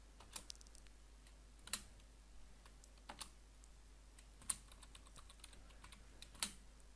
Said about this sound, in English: Here we are going to type